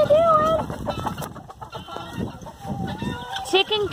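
Chickens cluck and chatter steadily in a backyard coop, with a rooster's crow rising among them, a busy, close flock sound running throughout as a voice speaks intermittently.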